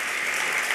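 A large Grammy Awards audience applauds a comedy-music group as they receive a lifetime excellence honor: dense, continuous clapping, loud and even, with no voices heard.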